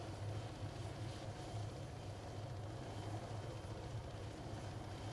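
A helicopter in Arma 3 lands with a steady, loud low rotor thrum and broadband engine whine that stay constant throughout, with no talk.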